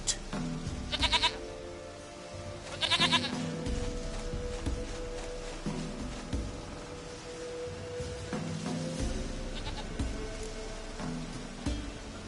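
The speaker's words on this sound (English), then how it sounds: "Goat of mine, dearest, sweetest goat." A goat in The Witcher 3 video game bleats in a few short, nasal bursts, loud and close, over a soft steady rumble of ambient game sound like light rain.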